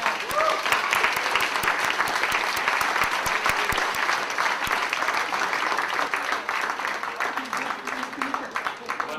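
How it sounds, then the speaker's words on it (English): A large gala dinner crowd at a charity auction applauds loudly and continuously for about nine seconds, a thick wash of clapping with some voices mixed in. "Give yourself a round of applause."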